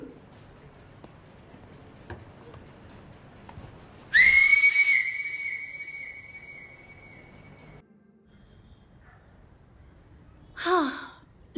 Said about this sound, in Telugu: అయితే హాఫ్ టైం విజిల్ని కొట్టేద్దాం.